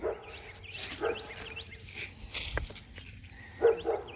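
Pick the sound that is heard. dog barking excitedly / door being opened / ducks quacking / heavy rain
dog barking excitedly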